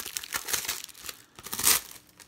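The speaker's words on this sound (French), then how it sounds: "Donc, je vais le déballer." Plastic wrap is peeled and torn off a 4K Ultra HD/Blu-ray combo of The Goonies, close and crisp, with bursts of crinkling and one louder tearing rip near the end.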